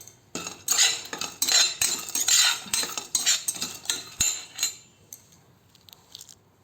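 Dry ginger, cinnamon and ashwagandha being lightly roasted in a pan, heard as bursts of metal spoon scraping and clattering against the pan that fade out toward the end.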